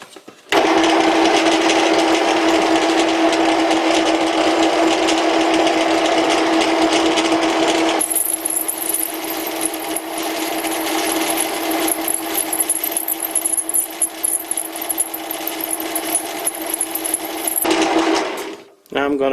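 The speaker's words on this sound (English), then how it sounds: "I'm gonna try a smaller drill first, because this sounds, well, terrible." A mini drill bores into a tool holder for a Dremel-style grinder with too little lubrication, producing a loud, continuous buzzing whine that shifts in tone partway through, runs for about 17 seconds and then stops abruptly.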